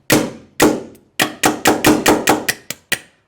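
Planet Eclipse EMF 200 paintball marker cycling its bolt on light trigger pulls: about a dozen sharp metallic clacks in an uneven, speeding rhythm, close and loud, each ending abruptly.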